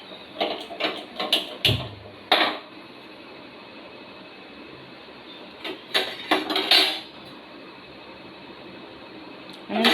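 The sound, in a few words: sesame seeds being dry-roasted in a pan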